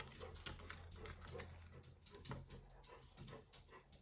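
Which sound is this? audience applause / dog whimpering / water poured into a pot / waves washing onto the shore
dog whimpering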